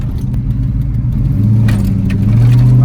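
Tuned 450 hp LS V8 in a car doing a pull on an empty street: a steady, loud low-pitched engine drone that holds throughout and climbs slightly in pitch and volume toward the end as it revs, with no talking.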